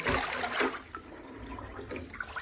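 Water is poured into a pigeons' drinking vessel, a soft, continuous trickle and splash close by against a quiet background.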